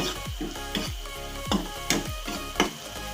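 Prawn masala with pepper powder stirred in a pan, a spatula scraping and knocking the metal in a steady rhythm of strokes over a continuous close sizzle.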